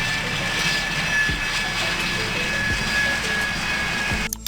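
A military ground-attack jet flies past with a continuous roaring engine drone and a whining high tone, fairly loud and steady, with faint rhythmic low thumps and a brief crackle at the end.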